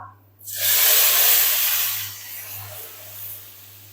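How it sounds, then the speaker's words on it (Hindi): A loud, sudden sizzle bursts out as hot tempering oil is poured over cooked chana dal, hissing steadily, then slowly softening as the oil spatters. "अब हम ऐड करेंगे दाल के ऊपर तड़का।"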